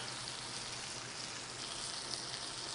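Beef filet searing in foaming butter in a pan gives a steady, dense, close sizzle that holds unbroken throughout.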